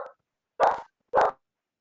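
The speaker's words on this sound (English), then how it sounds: "the dog's about to bark." A dog barks twice, separated by a short pause, with a brief clipped sound just before the first bark. Both barks are close and fairly loud against an otherwise silent background, with no talking.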